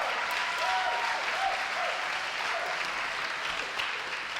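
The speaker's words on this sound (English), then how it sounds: "Round of applause for Dunk." Comedy roast audience applauding steadily, a dense, sustained wash of clapping from a sizeable crowd that holds at full strength throughout with no talk over it.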